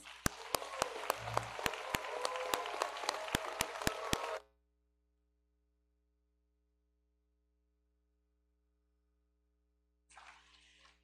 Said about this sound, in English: Let's give all the graduates one more round of applause.